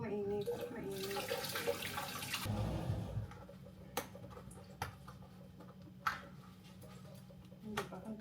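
Tap water gushes loudly for a few seconds while garden plants are rinsed, then cuts to quieter splashing with scattered clicks and knocks, and voices talk in the background.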